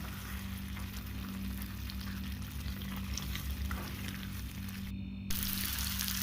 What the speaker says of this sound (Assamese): প্ৰথমতে মই ফুলকবিখিনি আৰু আলুখিনি ফ্ৰাই কৰি ল'লোঁ